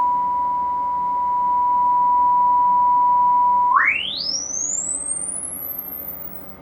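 A steady 980 Hz sine test tone holds alone for nearly four seconds, then sweeps smoothly upward in pitch to the top of the range, played through a speaker with a passive crossover.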